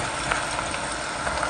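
Onions fry in about half a cup of oil for a Pakistani beef qorma, a steady close sizzle with faint crackles and stirring, no voices.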